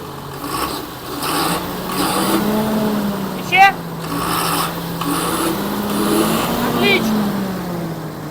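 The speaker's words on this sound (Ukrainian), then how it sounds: "А ну різка перегазовка!" A diesel engine with a clogged fuel pump and a smoking exhaust manifold is revved twice. Each time its low hum rises and falls back smoothly over a steady idle, under nearby talk and scraping noises.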